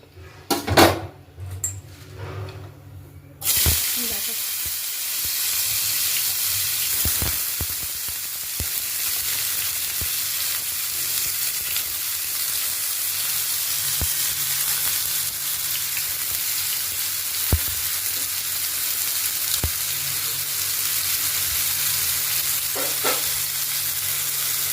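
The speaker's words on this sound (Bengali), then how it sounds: "আলুটা ভাজা করতে হবে অল্প অল্প।" Potatoes fry in hot white oil in a pan for chira pulao, a loud continuous hiss and sizzle. A few clinks and scrapes of a utensil come at the start and now and then throughout.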